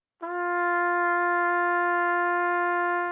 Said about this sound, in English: Here's a note without vibrato.